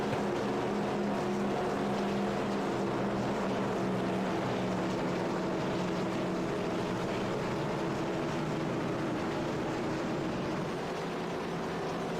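Several Chevrolet SS Cup race cars in iRacing idle along in a steady engine drone behind the pace car under caution at Kansas Speedway at night, continuous and fairly loud with no talk.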